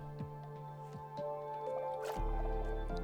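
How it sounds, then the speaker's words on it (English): Water elevator in the Minecraft game, giving soft drips and squishy bubbling pops that build into a louder liquid gush near the end, close and alone without talk. "But here's our water elevator."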